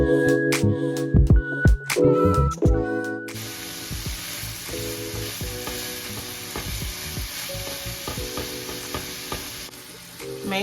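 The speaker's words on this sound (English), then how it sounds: "we are going to add in our sage ground pork sausage" Sage-seasoned ground pork sausage sizzles in a pan for cornbread stuffing. The frying hiss is steady and close, with scraping stirs and clinks throughout.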